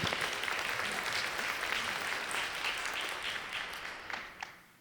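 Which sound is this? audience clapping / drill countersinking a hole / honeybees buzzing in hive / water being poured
audience clapping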